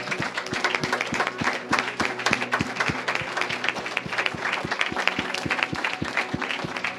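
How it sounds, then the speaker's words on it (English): A church congregation claps together in steady, rhythmic time during worship, the sharp evenly spaced beats carrying over a dense bed of scattered handclaps and a faint murmur of the crowd. "Lord, and we offer you this offering of claps, Lord, as our honor of your name."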